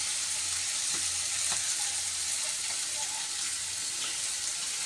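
Curry masala and chicken powder frying in a pan for a conch curry gravy, a steady broadband sizzle with faint scraping and stirring clicks throughout, close and continuous with no voices.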